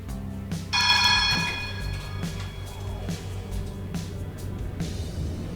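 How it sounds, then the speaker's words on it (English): A tram bell in the Tramsim game rings with a bright, sustained metallic tone, then fades under low rumbling tram noise and scattered clicks. "You can set off without ringing the bell."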